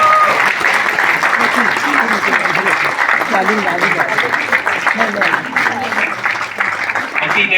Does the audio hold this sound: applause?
yes